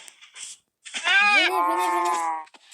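A drawn-out cow moo from the Minecraft video game, loud and close, about a second long and preceded by brief background noise.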